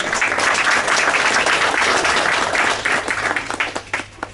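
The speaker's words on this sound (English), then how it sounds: "Let's give him another round of applause." An audience at a digital asset custody event breaks into dense, steady applause that holds strong before thinning into scattered final claps.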